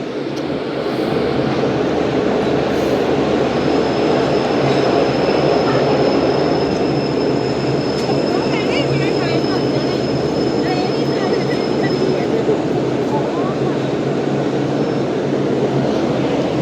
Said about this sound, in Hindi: कराची एक्सप्रेस पहुंच रही है रायवेंड जंक्शन